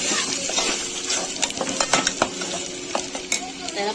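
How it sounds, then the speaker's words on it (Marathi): Ground onion, garlic and coconut masala paste sautéing in oil, with steady sizzling and repeated scraping, stirring clinks of a spoon against the pan, close and alone without talk. "त्याला आपण तेलावरती छानपैकी परतून घेणार आहोत."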